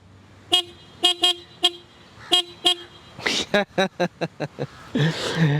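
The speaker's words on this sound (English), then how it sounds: "horn check for the Yamaha Super Tenere 1200" Short, close honks from the horn of a 2011 Yamaha Super Tenere XT1200Z motorcycle: a series of separate toots, then a rapid run of quick beeps and a final longer blast.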